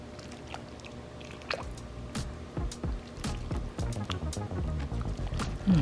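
Italian cabbage soup stirred in a pot, with wet squishing and sloshing over a steady background bubble, close and moderately loud across several seconds.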